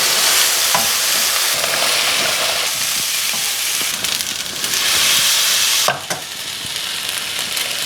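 Stir fry with peas sizzling loudly in a red-hot pan, a steady dense crackle throughout with a few brief stirring knocks, close and continuous with no talking.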